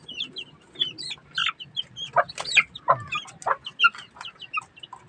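Young Basilan chicks peeping and squabbling, with sharp, irregular high cheeps and short clucking bursts close by, a mother hen among them, no talking.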